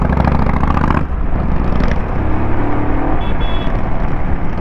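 A Royal Enfield Himalayan 450 motorcycle engine revs loud and close, a dense rumble that drops briefly then holds a steady throaty idle-to-rev drone.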